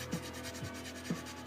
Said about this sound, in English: I'm using the coarser grit right here just to go and get everything smoothed out.